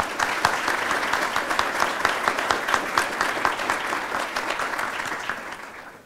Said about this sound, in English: let's give a round of applause to welcome our speakers